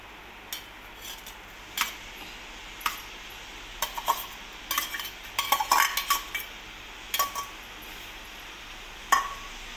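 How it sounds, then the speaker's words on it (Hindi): While okra cooks, onions go into hot oil in a pan and are stirred. A spoon scrapes and clinks against the metal in irregular bursts, close but moderately quiet, with no talking. "चलिए गाइस, इसमें प्याज डाल लेते हैं।"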